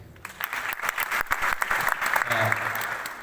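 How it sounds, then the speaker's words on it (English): Applause from the audience at a community leadership inauguration ceremony in Aweil, a steady wash of clapping that runs the whole length, with some voices mixed in. "A round of applause for them,"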